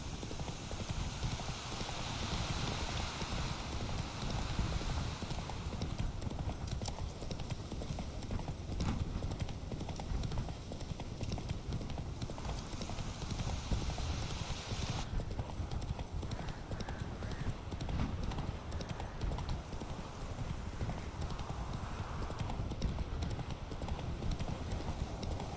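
Steady rhythmic clip-clop of a galloping horse's hooves in The Witcher 3 video game, continuous and close, layered over a dense wind-like ambience with occasional voice.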